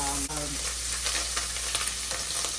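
Pancetta frying in a pan without oil, a dense close sizzle with faint stirring scrapes, a short low voice fragment at the very start.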